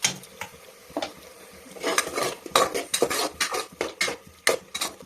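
Tomatoes being mixed in a cooking pot with a utensil, heard close as a series of irregular scraping and clinking strokes with no voices.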